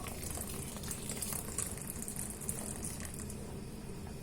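Water being poured into a pot to make peach iced tea, a steady soft gushing and splashing pour that runs continuously at moderate distance.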